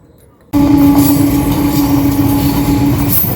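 A train rolls past near a road in rural Bihar, bursting in loud and close after a brief quiet moment, then holding a continuous heavy rumble with a faint steady whine over it.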